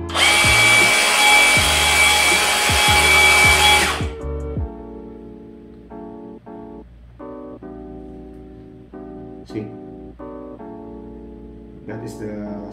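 A Bosch Bulldog GBH18V-26 cordless SDS Plus rotary hammer whines loudly for about four seconds, then stops as its safety feature cuts in; afterward only quiet background music or hum remains, with faint short sounds.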